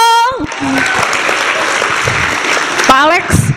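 Loud, dense clapping from a large crowd at a film forum fills the room, sustained throughout, with a few voices and a whistle cutting in over it.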